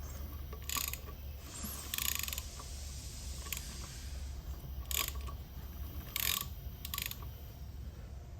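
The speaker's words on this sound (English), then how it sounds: "What we need to do is spin this again to make sure we do have that tight spot still." A motorcycle primary chain and its sprockets spun by hand in a workshop, giving a steady low mechanical whir with a few sharp ratcheting clicks at irregular intervals.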